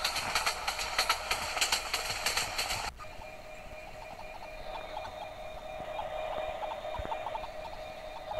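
A Subarna Express train in a Bangladesh train simulator game running at speed: a steady mechanical rail drone with tonal hum that drops in level partway through, then continues with faint periodic clicks.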